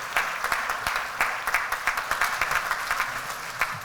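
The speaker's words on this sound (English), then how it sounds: "Round of applause." Audience applause at a community energy organization's 25th anniversary celebration, a steady patter of many hands clapping throughout at moderate level, with no talking.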